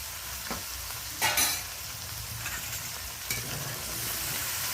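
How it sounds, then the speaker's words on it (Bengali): Steady frying in a pan with a few sharp scraping stirs, close and moderately loud, no voices. "চিংড়ি মাছের সাথে আলু বেগুনটা দিয়ে ভাজা ভাজা মতন করে নেব"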